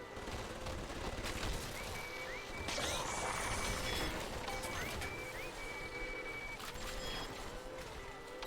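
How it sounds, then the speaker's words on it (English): An automated turret in Bioshock 2 fires sustained rattling bursts for several seconds, with clanks and impacts mixed in and faint game tones threading through the steady barrage. "Another turret."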